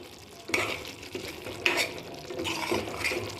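Roasted spices being stirred into a tangy brinjal kadhi in a pot, a few distinct scraping stirs with soft liquid sloshing between them, close and alone.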